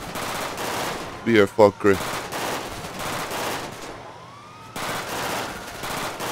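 Bursts of gunfire in GTA, repeated rapid shots through most of the stretch with a brief lull near the end, while someone talks over it.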